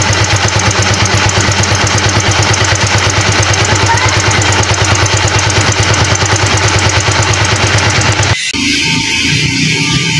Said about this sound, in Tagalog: Kakaibang tunog na tila may sumasayad na bakal.